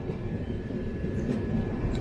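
A steady, low rumble of a train running on the Sengottai–Tirunelveli line, heard from aboard the 20684 Tambaram Superfast Express, continuous and even, with no voices.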